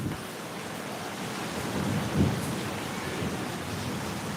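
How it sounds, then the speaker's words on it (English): Thunder rumbles during a rainstorm, a low rolling swell that peaks briefly over a steady hiss of rain, with no voices. "You hear the thunder?"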